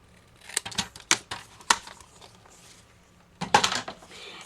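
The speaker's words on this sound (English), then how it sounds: "I'm going to take my scissors and simply cut off the ends." Scissors cut the ends off a paper label, giving a few sharp snips and crisp paper crunches in irregular bursts with short pauses between. A louder cluster of cuts comes near the end. No speech.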